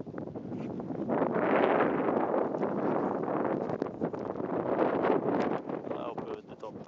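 Steady wind buffeting a microphone, a continuous broadband roar with gusty swells throughout, fairly loud and close.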